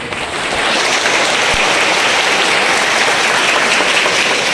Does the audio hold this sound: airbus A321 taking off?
no